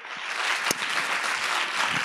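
An audience claps for a group, a dense, steady round of applause that is fairly loud and fills the whole moment, with no talking.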